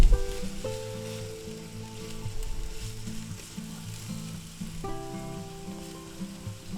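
Chopped ham fries in a pan with peppers and onions, a steady loud sizzle under a low tonal hum, with a few stirring clatters as the pieces are moved around.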